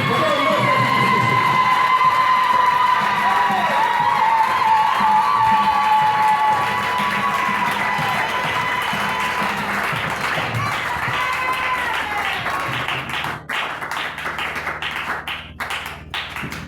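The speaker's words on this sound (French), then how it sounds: "On acclame très fort le Seigneur Jésus." A church congregation cheers and applauds, a loud, sustained crowd noise with clapping and shouting. Sung or voiced tones run through it, and claps stand out near the end.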